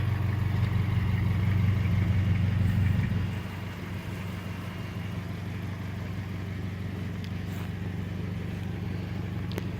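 A Scion FR-S engine hums steadily at close range during a test drive after repair, louder and throatier at first, then settling into a lower, even drone.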